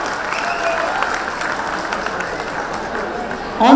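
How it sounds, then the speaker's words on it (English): Audience applause for the participants and their parents at a Mahavir Jayanti celebration, a steady wash of clapping with crowd murmur and some speech mixed in throughout. "please give a big round of applause to all the participants and the parents"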